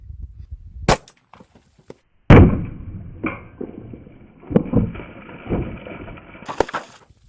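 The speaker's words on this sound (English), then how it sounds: "first shot with the ball ammo here" A .45 ACP ball round fired into water jugs: one loud sharp report with a splashy, rumbling tail, preceded by a few faint clicks and followed by scattered knocks and rustling.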